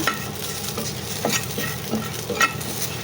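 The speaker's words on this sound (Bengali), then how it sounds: "আগে রসুন কয়টা মানে ভাজতেছি তেল ছাড়া" Garlic dry-fries in a pan with a faint crackle, punctuated by a few scraping stirs of a spatula.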